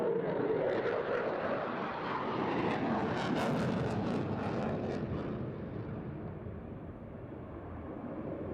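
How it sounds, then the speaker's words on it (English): A jet aircraft engine roars during an airshow display, a powerful broadband rush that swells as the plane approaches, peaks, and then recedes into a steady distant drone. "you'll be able to hear the power of the aircraft."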